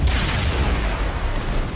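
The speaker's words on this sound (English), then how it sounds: "Yeah, explosions." Explosions in the video game Mass Effect boom as a dense, continuous low rumble of blasts, loud and heavy for the whole short stretch, with no talking.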